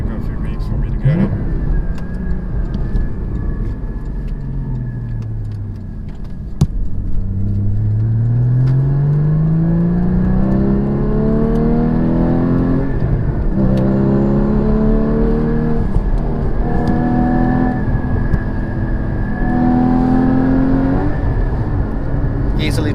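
A 2016 Porsche GT4 pulls hard, its engine note climbing in long rising sweeps, easing, then rising again in third gear, loud and close inside the cabin with someone talking over it.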